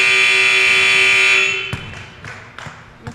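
A loud, sustained electronic buzzer sounds at a high school boys varsity basketball game for about a second and a half, then cuts off, leaving scattered gym thumps and squeaks.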